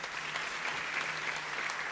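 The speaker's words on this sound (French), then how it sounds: "on peut l'applaudir très fort" Audience applause in the hall at the opening of the Royal Opera of Morocco, steady dense clapping heard at a distance and fairly faint, alone without speech.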